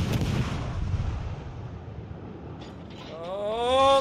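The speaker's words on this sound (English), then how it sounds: "These guys have nothing better to shoot at but me." Naval artillery fire in World of Warships Legends: a dense barrage of booming shots at the start, fading into a rumbling wash, with a rising siren-like tone toward the end.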